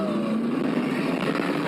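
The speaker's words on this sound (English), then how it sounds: "Oh, it makes car noises." A vehicle engine hums steadily from a played video, a brief continuous drone with a faint rising tone, at moderate loudness and without talk.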